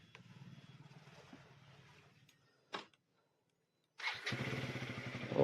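A motorcycle with electric self-start: a low engine rumble fades, a brief whir of the starter, a moment of silence, then the engine catches and runs loud and steady at close range.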